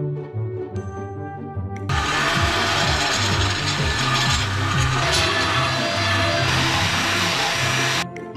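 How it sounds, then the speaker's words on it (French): An angle grinder grinding on a combine harvester turbo part, loud and close, with a steady high-pitched whine and rough abrasive rasp running for about six seconds after a brief quieter start, then cutting off. "Donc je vais le meuler encore une fois ici."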